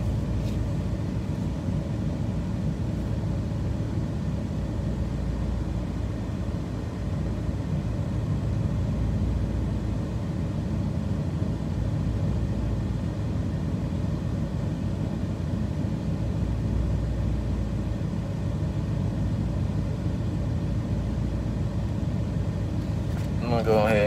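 A Nissan Titan pickup truck engine runs in a steady, continuous low drone that holds at an even loudness for over twenty seconds.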